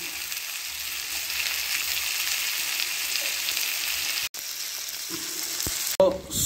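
Pomfret fish frying in a pan with home-made masala, a steady close sizzle with a few faint clicks and scrapes, ending in a short clatter as the pieces are turned.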